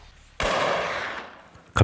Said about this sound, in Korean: 갑자기 들려온 총성.